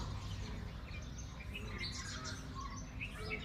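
Many sparrows perched on a treetop chirp in faint, scattered bursts from a short distance, over a constant low rumble of wind and traffic.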